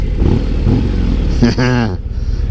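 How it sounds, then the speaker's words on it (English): 2024 Harley-Davidson Road Glide V-twin engine blipped to a short, loud rev near the microphone, rising and falling over rumbling idle, with the rider talking over the engine before it. "Let me get my last little Harley sound in before I get off."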